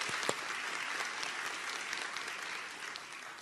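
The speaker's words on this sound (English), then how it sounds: "Let's have a round of applause for all our MSN graduates and Postmaster Certificate recipients." A convocation audience applauds graduates in a steady, even roar of many hands clapping at once, with one sharper clap near the start, heard at a distance in a large hall.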